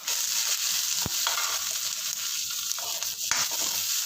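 Small onions sautéing in a pan for a plantain gravy, a continuous bright sizzle with a few sharp clicks of utensils against the pan, and no talking.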